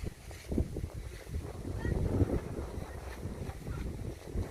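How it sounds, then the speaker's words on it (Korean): Strong gusting wind and rain batter a campsite in spring, buffeting the microphone in uneven rumbling surges with a steady background rush. "바람이 불어요."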